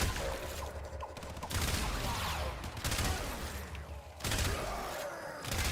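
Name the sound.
gunfire from headshots in the video game Warframe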